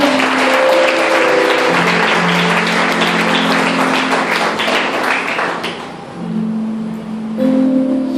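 A congregation claps in applause during an evangelical church sermon, a dense, loud, sustained wash of clapping that thins toward the end, with music or tones running underneath.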